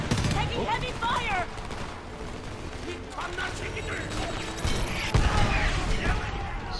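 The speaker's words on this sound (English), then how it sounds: "Taking heavy fire." Heavy gunfire and explosions during a Homefront campaign battle, sustained and fairly distant-sounding under voices and a dense combat din, with a sharper crack near the end.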